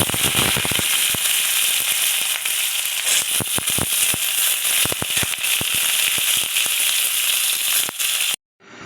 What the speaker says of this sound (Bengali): বেগুনটা বেগুনটা ভেজে নিচ্ছি